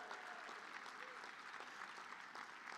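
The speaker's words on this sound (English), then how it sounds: "Give yourselves a round of applause" Graduation ceremony applause for a coalition academy's graduating class, a steady wash of many hands clapping throughout, fairly distant in the hall.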